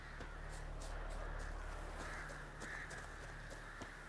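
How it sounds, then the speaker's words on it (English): Crows cawing repeatedly in Witcher 3, several harsh calls spread across the clip over a steady low game ambience hum, no talking. "What are all these birds doing right here?"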